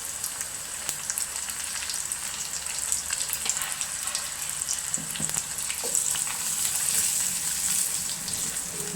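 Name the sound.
onions frying in a pan, chili powder added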